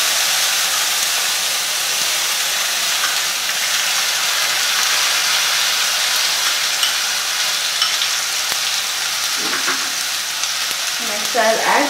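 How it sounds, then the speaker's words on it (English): Onion paste frying in hot oil, a loud steady sizzle and hiss throughout, with a few stirring scrapes near the end. "It's almost hot. So first I will add onion paste."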